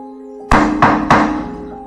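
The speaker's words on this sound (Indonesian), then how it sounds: "Ketukan pintu" Three firm knocks on a wooden door, evenly spaced and loud, each with a short hollow ring, heard close against a quiet steady hum.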